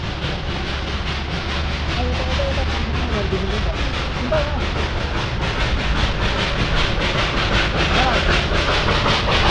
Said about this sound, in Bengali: এখন কিন্তু স্টিম ইঞ্জিনের একটা ট্রেন আসছে অলরেডি, এই বাতাসিয়া লুপ হয়েই কিন্তু সে যাবে